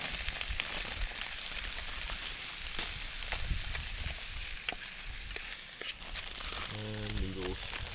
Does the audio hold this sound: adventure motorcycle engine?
no